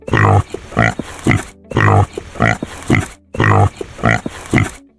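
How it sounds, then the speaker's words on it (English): A farm pig grunting and oinking in short repeated bursts, loud and close, with brief gaps between the calls and no talk over them. "This is a pig."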